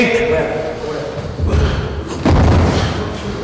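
Thudding body punches from a 1983 amateur boxing sparring session, two heavy dull impacts landing a second apart amid gym noise and a coach talking.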